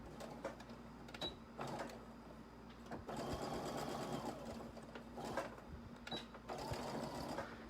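A sewing machine runs in short bursts while stitching a Sarubobo doll body inside out, its steady mechanical whir starting and stopping several times at close range, fairly quiet with no speech.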